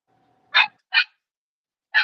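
A small Chihuahua and Jack Russell mix dog gives three short, sharp barks, two close together and one after a pause, near and clear against a quiet room.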